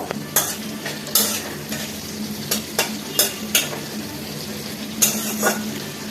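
Dried red chillies and green chillies frying in hot oil in a pan, a steady sizzle with repeated sharp scraping taps from stirring, close and alone with no talk.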